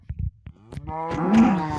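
A cow moos in Minecraft, a long low drawn-out call with strong harmonics, preceded by a few short clicks and thuds from the game.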